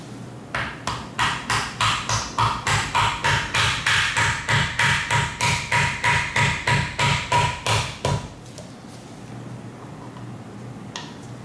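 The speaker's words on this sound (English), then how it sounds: "Just tap it in with a mallet and it goes right in." A mallet taps a part into a BMW E36 differential during a rear-end overhaul: about twenty evenly spaced, loud, close knocks in a steady rhythm, then a quiet room hum.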